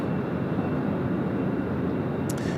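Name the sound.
American airliner taking off at Sydney Airport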